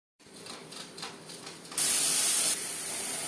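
A pressure cooker cooking khichuri on a gas flame lets out soft hissing at first, then a sudden loud rush of steam that holds steady for about the last second and a half.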